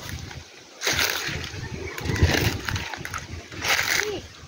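River water splashing and sloshing in a dense, overgrown riverside spot, with bursts of rushing flow rising and falling over a few seconds under wind noise.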